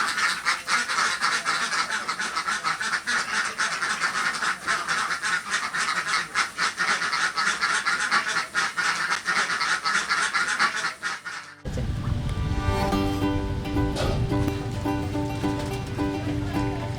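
A flock of laying ducks in rice fields quacks continuously and loudly, a dense chattering chorus that shifts midway to a clearer, closer set of calls over a steady background hum.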